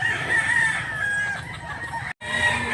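A bullstag fighting rooster crows steadily at a cockfight in Mantalungon, Cebu, its call carrying over a busy crowd murmur with a brief cutoff near the end.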